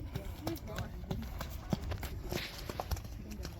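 A horse's hooves thud and clip-clop over ground during an obstacle jumping lesson, irregular footfalls heard near and under an instructor's continuous talking.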